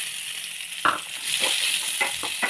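Onion frying in oil in a pan, a steady hiss with a few soft crackles and stirring scrapes, close and moderately quiet with no talk.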